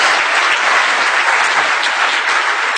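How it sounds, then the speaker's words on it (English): Audience applause at a talk on hacking access control systems, a dense, steady wash of many hands clapping at close range, sustained and loud throughout with no voices. "that's where the applaud should come in."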